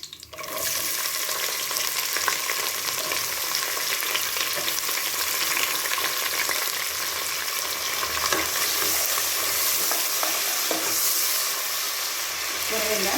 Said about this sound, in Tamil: இப்போ நம்ம வெங்காயத்தை சேர்த்துக்கலாம்